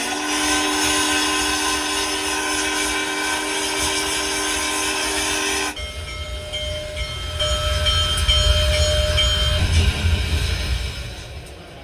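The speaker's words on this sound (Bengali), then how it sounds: "এই সময় আগ্রা এক্সপ্রেসের হুইসেলের আওয়াজ শোনা গেল।" A loud, sustained horn from the Agra Express sounds at close range, then gives way to a heavy rumble as the train rolls into a platform, with a fainter tone lingering for a few seconds.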